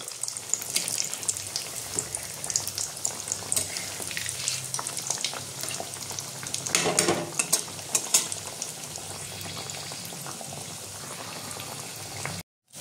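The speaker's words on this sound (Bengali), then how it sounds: "আমি হালকা আঁচা ভাজবো, নাহলে এগুলো ভালো ভাজা হবে না।" Soya bean cutlets fry in oil over low heat with a steady crackling sizzle and bubbling, punctuated by occasional louder pops and stirring, heard close without talking.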